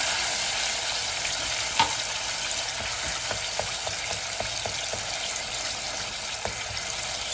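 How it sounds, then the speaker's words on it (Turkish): Tomato paste and tomato sauce are stirred in a soup pot for barley vermicelli soup, a steady bubbling hiss with a few light spoon taps and clinks scattered through, no speech. "Şöyle birlikte bir iki karıştırıyorum. Salçam eridi."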